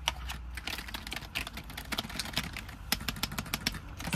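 Rapid, irregular clicking keystrokes on a gaming keyboard, typed steadily and close by with a low background hum throughout.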